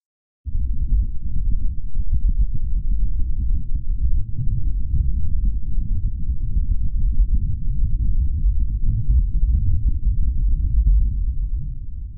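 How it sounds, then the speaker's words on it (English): A continuous low rumbling drone with a fluttering, wind-like texture, steady and fairly loud, starting abruptly and holding without breaks: Martian wind vibrating the solar panels of NASA's InSight lander on Mars, pitched up two octaves. "the vibrations caused by Martian wind going over the solar panels of the lander"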